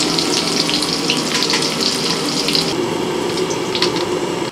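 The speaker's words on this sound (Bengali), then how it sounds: "আলুগুলোকে একটু ভেজে তুলে দিই।" Potatoes frying in oil in a kadai for a large batch of chicken biryani, a dense continuous sizzle and crackle, close and steady throughout.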